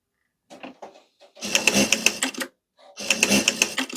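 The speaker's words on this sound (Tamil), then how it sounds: "இந்த மாதிரி கான்ஸ்டண்ட்டாக அப்படியே ஸ்ட்ரெயிட் லைனாக ஸ்டிச் பண்ணிகிட்டே போகும்" A Juki DDL-7000A industrial sewing machine stitches a straight line in two bursts, close rapid mechanical whirring and ticking that starts, pauses briefly, then runs again, with no talk.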